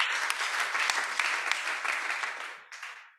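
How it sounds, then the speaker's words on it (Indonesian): Congregation clapping in a prison church service, a dense, steady burst of many hands applauding together that tapers off near the end, with no talk over it. "Berikan tepuk tangan bagi Yesus Tuhan."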